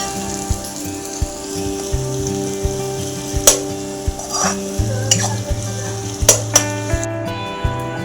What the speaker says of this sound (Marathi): त्यात टाकायचं कांदा टमॅटो मग आपण ते चांगलं परतून घेऊयात